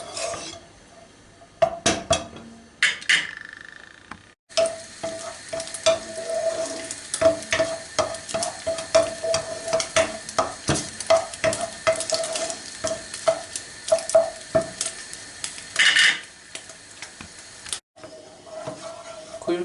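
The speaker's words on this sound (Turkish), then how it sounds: "Şimdi etimizi kavurmaya başlayalım" Beef sizzles in rendered tail fat in a pot while a utensil repeatedly scrapes and clinks against metal in quick irregular strokes, close and fairly loud.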